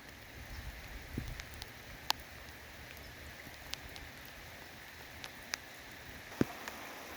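Steady rain falling outdoors during a first significant rainfall, a soft continuous hiss with occasional louder drips and taps nearby.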